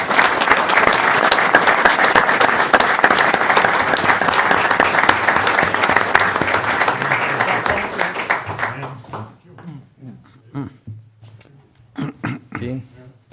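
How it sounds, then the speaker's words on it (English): Audience applause at a city council meeting in Waverly, sustained dense clapping for about nine seconds before thinning out into scattered claps as a voice resumes talking. "I think they deserve another round of applause."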